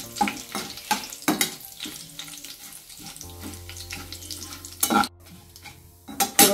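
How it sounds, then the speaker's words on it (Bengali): Dried red chili, bay leaf, cumin and five-spice hit hot oil in a pan for a Bengali cabbage dish, giving a light sizzle broken by sharp clinks and scrapes of a utensil against the pan, with no talking. "ফোড়ন দিয়ে দেবো শুকনা লঙ্কা তেজপাতা আর একটু জিরা আর একটু পাঁচ ফোড়ন দেবো"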